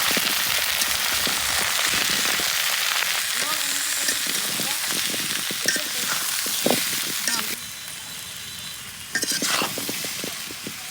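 Oil sizzles and spatters in a pan while pickle is made with hand-ground spices, a close, busy crackle broken by stirring scrapes and clatter, with a brief lull before the sizzling picks up again.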